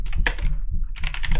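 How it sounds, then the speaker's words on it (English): Computer keyboard keys pressed in quick clattering bursts, two clusters of close, crisp typing separated by a brief pause, heard alone with no talk. "I did something with my keyboard"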